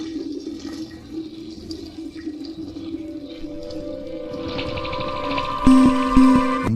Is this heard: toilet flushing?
yes